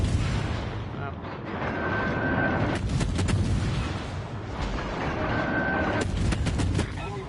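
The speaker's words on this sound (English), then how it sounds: "he's certainly not afraid to shoot me." Booming naval gunfire from an enemy ship in World of Warships Legends, repeated heavy cannon blasts over a constant rumbling battle din, with a voice talking over parts of it.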